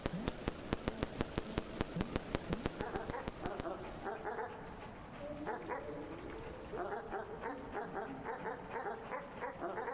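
A dog barking in the pixel-art exploration game Animal Well, a fast run of sharp repeated barks that gives way to softer yips and whimpers with ambient game tones beneath.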